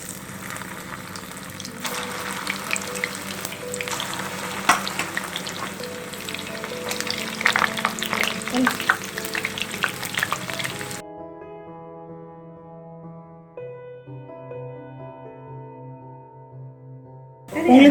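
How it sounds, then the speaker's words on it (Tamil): Okra (ladies finger) deep frying in hot oil, a dense, loud bubbling sizzle for most of the stretch, then falling away to a quieter tonal hum before a sudden loud burst at the end. "இப்போ வெண்டைக்காய் ஃப்ரை பண்ணிடலாம்."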